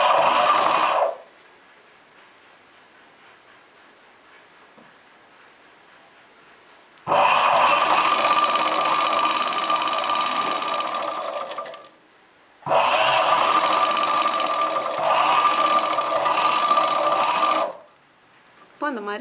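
An electric sewing machine stitches a chudidar pant in three bursts, a short one then two longer steady runs, with quiet pauses between.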